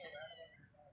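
A stray street cat gives one short, faint meow, rising and then falling over under a second, with a voice softly audible in the background.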